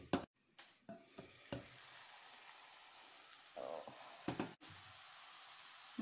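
Cabbage frying gently in a covered pan, with a soft steady sizzle beneath a few sharp knocks and clinks of a lid and utensil, close by and fairly quiet.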